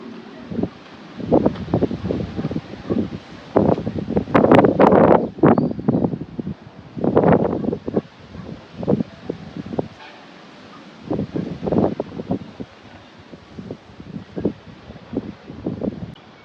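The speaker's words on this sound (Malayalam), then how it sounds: "നല്ല കാറ്റുമുണ്ട്" Strong wind gusting across a hilltop near tall windmills, roaring loudly into the microphone in repeated buffeting bursts with quieter lulls between, and no one speaking.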